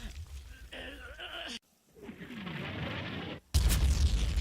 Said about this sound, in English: 60mm mortars continue to land around Objective Sioux